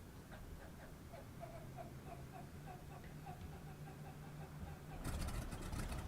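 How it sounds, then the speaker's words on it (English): A PT-17 Stearman biplane engine starting in Flight Simulator 2020: a steady ticking starter whine runs for several seconds before the radial engine catches with a sudden louder rumble near the end. "Engine starter, engage and hold."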